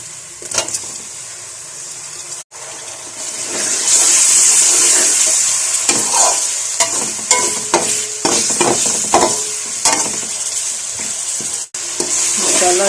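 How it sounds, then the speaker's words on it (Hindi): Pulao masala and tomatoes sizzle steadily in a pan, a loud continuous frying hiss broken by scraping stirs and clinks of a spoon throughout, with no talking. "मसाला अच्छी तरह से भून लेना है।"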